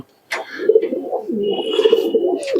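A pigeon over six years old gives a loud, close, throaty coo that rolls on continuously after a brief silent start, with faint higher chirps in the background.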